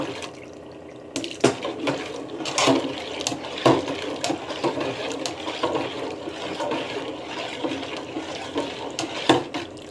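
A pot of rice flour batter being stirred steadily for papad, with scraping and wet sloshing strokes that rise and fall irregularly over a soft watery background, no talking.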